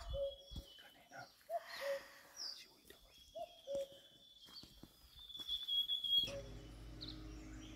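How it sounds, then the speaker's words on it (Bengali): Cuckoo calls in a forest along a roadside path near Lolegaon: short two-note calls repeat several times at a moderate distance over quiet woodland background, with brief human sounds in between. "হ্যাঁ, কাকু পাখি, কুকু কুকু কুকু"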